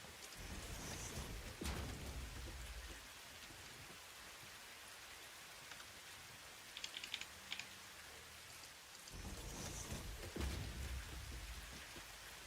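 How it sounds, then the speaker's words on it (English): Steady rain falls across an outdoor scene in the factory-building video game Satisfactory, a continuous wash of patter with a few heavier gusts and brief sharper drops, no voices. "I am so pleased they brought the rain back"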